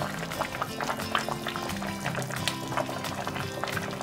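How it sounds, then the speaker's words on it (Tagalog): Pork belly boiling in a pot of water, with continuous bubbling and small pops, steady and close, with a faint low hum behind it. "Hintayin lang kumulo at lumambot ang baboy."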